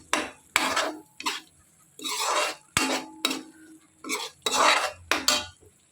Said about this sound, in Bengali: এবার এটাকে আঁচটা কম করে মশলাটাকে ভালো করে কষাবো, যতক্ষণ না তেলটা মশলার থেকে ছাড়ছে।